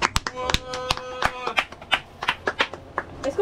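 A small group in a camper van claps in brief, uneven bursts, sharp close hand claps scattered over a few seconds, with voices talking in between.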